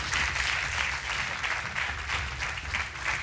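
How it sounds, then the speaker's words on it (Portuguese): A crowd claps steadily and continuously, a dense, even round of applause throughout. "Um aplauso para o Francisco, que é o desafiador desta noite."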